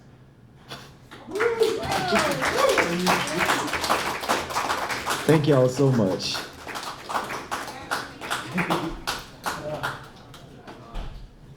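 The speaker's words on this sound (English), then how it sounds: "Another round of applause." An open-mic audience indoors at Kokaburra-Dondi bursts into dense applause and cheering after a poem. The clapping swells, holds, then thins to scattered claps, and a performer's voice thanks them near the end.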